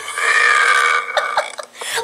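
A submitted burping-challenge recording holds one loud, close, drawn-out burp lasting about a second, followed by a few short clicks and small gulping noises.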